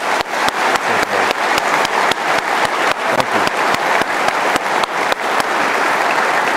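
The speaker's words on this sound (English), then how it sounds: "So can we please give General McMaster a round of applause?" Steady applause from a West Point lecture audience, loud and dense with a few sharper individual claps popping out, running the full length with no speech over it.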